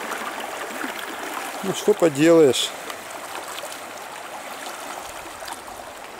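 The Razdolnaya river flows near the village of Pokrovka as a steady, soft rushing of water throughout, with someone briefly speaking midway over the flow.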